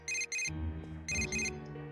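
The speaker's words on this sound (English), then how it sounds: "I'm about to hear a phone call from a very horny Yosuke." A phone rings in Persona 4 Golden: two loud, bright, repeated electronic chirps, a short gap, then two more, over a low steady music bed.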